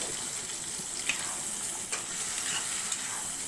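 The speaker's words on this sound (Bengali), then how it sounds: "ইলিশ মাছ নরম হয়ে গেলে এরকম করে রান্না করতে হয়" Hilsa fish cooking with turmeric, chili, coriander and salt in a pan, a continuous close sizzling hiss with a few faint stirring clicks and no talking.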